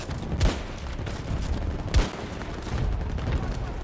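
Gunfire in the video game Battlefield 2042 comes as a couple of sharp, punchy shots over a busy battle background. A player talks quietly in between.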